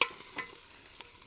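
Chicken pieces fry quietly in a pan with a soft, even sizzle, broken by a couple of brief utensil taps.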